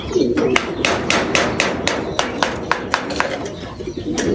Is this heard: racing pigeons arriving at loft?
yes